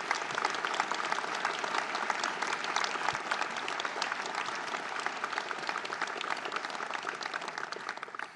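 An audience applauding at a political speech during a handover of power at Matignon, a dense, sustained roar of many hands clapping at even loudness from start to finish.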